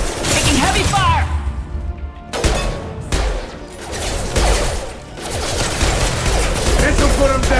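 Heavy, sustained gunfire from a Mass Effect 2 firefight, loud and dense, with bursts that briefly cut out before resuming, mixed with game voices and effects.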